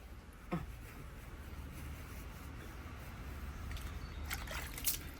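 Water poured over a puppy during a bath, a steady close trickle and slosh running throughout with a couple of brief splashy bursts near the start and end.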